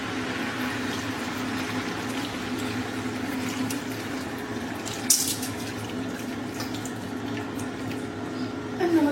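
Water poured into a pan of cooking mushrooms gives a continuous hissing, bubbling splash at moderate loudness, with a brief sharp clatter partway through.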